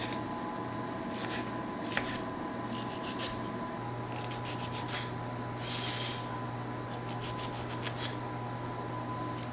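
A knife slicing tomatoes into wedges on a cutting board for a Greek salad, soft repeated scraping and cutting strokes in short bursts over a steady background hum.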